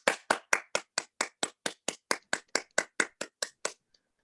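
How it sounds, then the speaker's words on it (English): A single person claps hands in a steady, even rhythm, about fifteen crisp close claps at a brisk pace before stopping, with no talk. "We could clap from joy or with joy."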